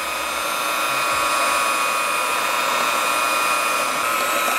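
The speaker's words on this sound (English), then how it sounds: "if you have a machine, then it's always a good idea to mix it with the machine" An electric mixer whirs steadily, beating chocolate cake batter for a German chocolate cake, with a constant close high-pitched motor hum and no talking.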